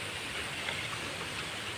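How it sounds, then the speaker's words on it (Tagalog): Steady rain hisses down in a rural provincial setting, a dense, even wash of falling water with no distinct drops, continuous and close throughout. "Ulan na."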